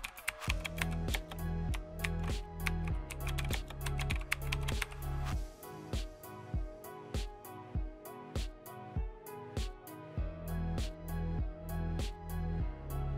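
Fingers typing a web address on a computer keyboard, crisp close clicks in quick bursts, first a denser run and then a slower uneven patter of single keystrokes, with no voices.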